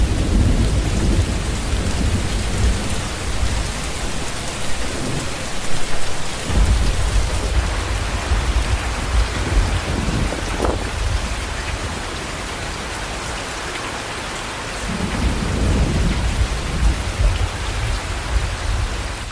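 Heavy rain pours steadily onto surfaces while thunder rumbles low and deep in several rolling waves, a dense, loud storm wash with no voices.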